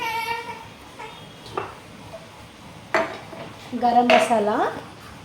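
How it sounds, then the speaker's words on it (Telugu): Garam masala being mixed into chicken curry in a pot: a few light metal clinks and scrapes of a spoon, with a voice talking throughout. "గరం మసాలా వేసేసి కొంచెం కలిపేద్దామండి."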